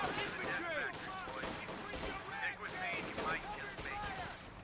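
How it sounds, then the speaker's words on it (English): An artillery barrage in the video game Company of Heroes 2, with rumbling blasts and gunfire running continuously under a commentator's voice. "Making it quite an interesting artillery barrage"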